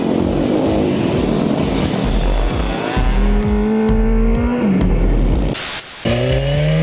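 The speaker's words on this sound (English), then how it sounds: "get sideways on a road bike" A road motorcycle engine revs and screams on a dirt flat track, loud and close, with rising and falling pitch as the rider shifts and slides, joined by other bikes roaring past.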